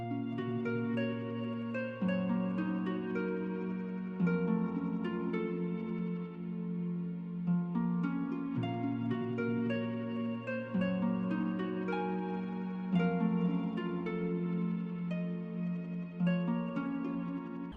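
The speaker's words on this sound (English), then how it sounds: "grabbed this like string. It's the Heart plus string preset" A Heart plus string synth preset plays spread-out RnB chords, sustained and soft, with slow chord changes every couple of seconds and a warm, smooth wash, no voice.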